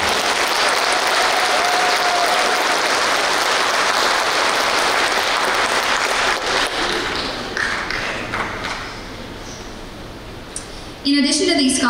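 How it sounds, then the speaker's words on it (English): Audience applause at a high school senior awards ceremony honoring merit scholarship recipients, a dense sustained clapping that holds steady for several seconds, then thins and fades before a voice begins speaking near the end. "Let's give all our merit scholarships another round of applause."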